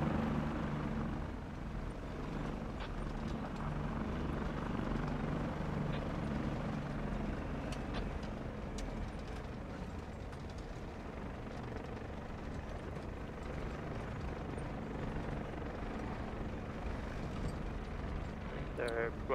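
A helicopter in the Squad military shooter game, a steady low rotor and engine drone that runs the whole stretch under gunfire crackle and players talking over comms.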